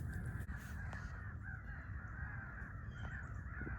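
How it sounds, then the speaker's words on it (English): A crow caws faintly in the distance across rural Missouri countryside, barely rising above a steady outdoor hiss. "I think the crow is somewhere over there"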